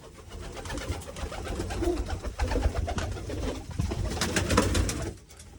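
Several pigeons coo close by in low, throaty, overlapping calls, with fluttering and shuffling around them, growing busier before fading at the end.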